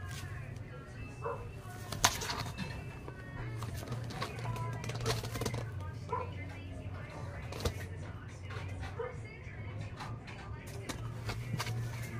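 Pigeons in a loft give soft, low, repeated cooing under scattered shuffling and fluttering, with a person talking nearby.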